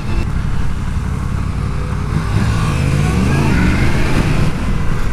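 A Yamaha FZ motorcycle accelerates hard into a wheelie, its engine revving and rising steadily in pitch, loud and close throughout with wind rush behind it.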